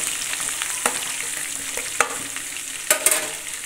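Curry leaves and coriander sizzling in well-heated oil for a Maharashtrian katachi amti, a steady close crackling hiss punctuated by a few sharp spatters and utensil knocks, with no voices.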